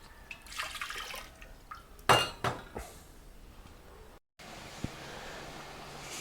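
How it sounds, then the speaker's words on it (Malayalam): Water pours into a pot of sugar to make syrup for shahi tukda: a short splashing, trickling burst with a few light clinks of the pot, moderately close, then quieter kitchen background. "രണ്ട് കപ്പിന് രണ്ട് കപ്പ് വെള്ളം ചേർക്കുന്നുണ്ട്"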